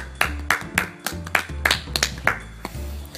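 On a radio show, a small group claps for the guest Marteau with steady, evenly spaced claps, fairly close, over a low humming background.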